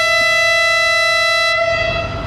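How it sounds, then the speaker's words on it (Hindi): The Pakistan Express sounds a long, steady, loud horn while departing Multan railway station, a sustained multi-tone blast lasting about a second and a half before cutting off into rumbling station noise. "ये दोस्तों आपने विसल सुना, ये है पाकिस्तान एक्सप्रेस का, जो कि मुल्तान रेलवे स्टेशन से डिपार्ट हो रही है"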